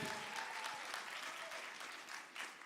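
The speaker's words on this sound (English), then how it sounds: "Can you give our leadership a hand clap?" Steady applause from a large audience in a hall at a fifth grade graduation, many hands clapping together at a moderate distance, continuous through the clip.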